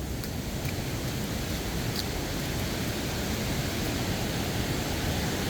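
A loud waterfall roaring up close, a steady, unbroken wash of rushing water.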